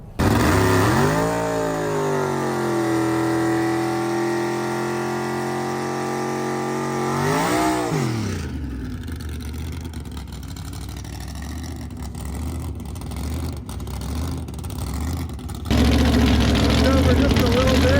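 A race car engine revs and accelerates hard on a track, its pitch climbing through gears and then dropping, followed by a rougher loud running sound as people talk nearby.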